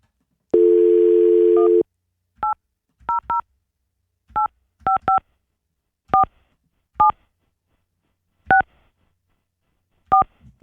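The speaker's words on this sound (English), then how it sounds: "It has been a while since we called the ROH Codeline." A telephone dial tone plays steadily for about a second, then stops, and a quick series of touch-tone dialing beeps follows in uneven bursts, loud and clear with no voices.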